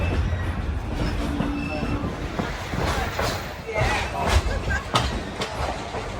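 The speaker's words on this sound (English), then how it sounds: "we're now rolling through Eckhart Junction" A train rolls through Eckhart Junction near Cumberland, Maryland, with a continuous rumbling clatter, metallic clicks and occasional wheel squeals, heard from close by on board.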